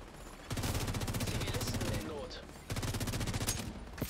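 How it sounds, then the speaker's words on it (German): Automatic gunfire in The Division 2: two long, rapid machine-gun bursts with a short lull between them, close and loud, with faint voices in the background. "Deswegen schießen wir ja auch so viel."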